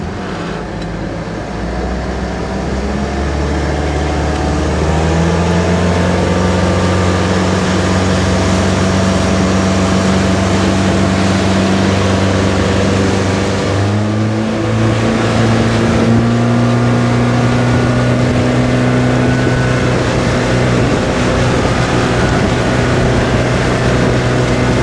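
Outboard motor on a 1976 Starcraft boat running near wide open throttle on the Mississippi River, a loud sustained engine drone with pitch shifting slightly as it holds speed, over rushing water and wind.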